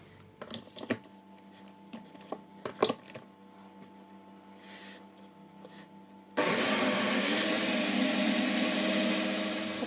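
An electric mixer beats semolina basbousa batter flavoured with lemon and banana. After some scattered taps and clicks, the motor switches on and runs with a loud, steady, close whir until the end, with no one talking.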